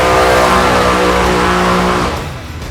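A top fuel drag racing engine roars at full power, a loud, harsh, continuous blast heard from close by that holds steady for about two seconds and then begins to fade.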